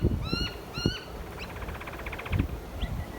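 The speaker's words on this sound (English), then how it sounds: "lots of birds flying around in the early morning. You can hear the chirping." Several birds chirp and call in quick, repeated bursts in the early morning over a soft background hiss, fairly close, with a few rustling thumps beneath.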